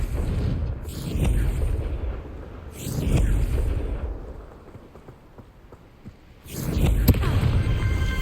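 Spell explosions from Confringo in Hogwarts Legacy go off as loud booming blasts. Three big bursts arrive a few seconds apart, each with a rumbling tail, over the game's ambient background.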